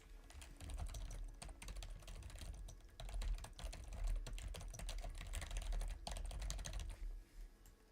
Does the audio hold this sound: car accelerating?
no